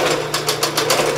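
A sewing machine stitches a maroon dress in solid fabric, a fast steady mechanical whirring with rhythmic clatter pulses, close and loud for a short run with no talk.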